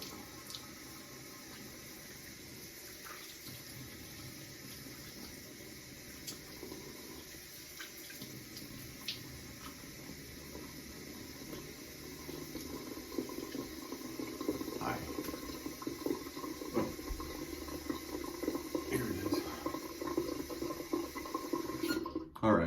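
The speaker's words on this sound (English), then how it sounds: "Let me rinse this off." A shaving razor is rinsed under a running tap, with water splashing and trickling that grows louder over the last half, and a faint steady hiss in the background.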